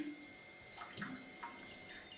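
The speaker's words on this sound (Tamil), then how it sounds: "இப்போது அதே டம்ளர்லேயே தண்ணி ஊற்றிக்கலாம்." Water poured from a tumbler into a pressure cooker holding brown rice, a soft, brief splashing trickle heard close up and fairly quiet.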